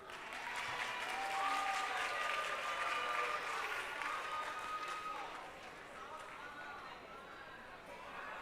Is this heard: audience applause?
yes